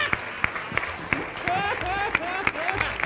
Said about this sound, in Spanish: Aplauso para mis hijos.